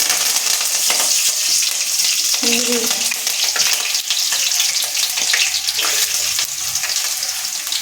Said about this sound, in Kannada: ಈರುಳ್ಳಿ ಹಾಕಿ ಸ್ವಲ್ಪ ಫ್ರೈ ಮಾಡ್ಕೊಬೇಕು